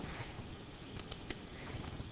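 Soft, sparse computer keyboard typing at a desk, a few faint key clicks clustered together over quiet room tone.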